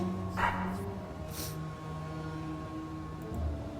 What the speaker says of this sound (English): Let's say hello to the dog.